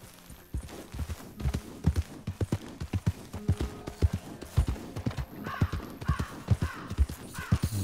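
Horse hooves clip-clop in a Red Dead video game, a steady walking rhythm of close, distinct hoof strikes with a neigh and crow-like calls rising near the end.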